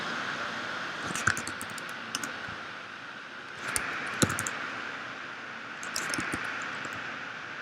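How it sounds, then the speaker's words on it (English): Soft, scattered key presses on a computer keyboard while alt codes are typed in, arriving in a few short clusters of clicks over a steady background hiss. "I'm just typing in a bunch of alt codes until I get like the one I want"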